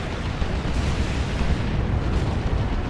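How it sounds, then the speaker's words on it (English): Dense, continuous roar of heavy cannon fire and explosions from a Baneblade super-heavy tank in a large real-time strategy battle, loud and unbroken with no quiet gaps. "There's a very long range shot from that Baneblade."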